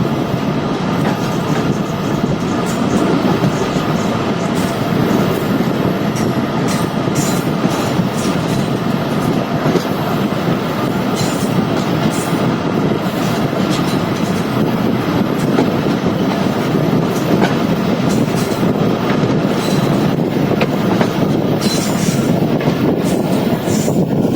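The Bolan Mail passenger train runs on rails near Karachi, with a loud, constant roar of wheels and carriages, steady clickety-clack and some faint squeal throughout, heard up close.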